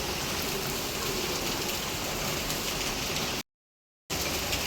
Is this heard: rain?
yes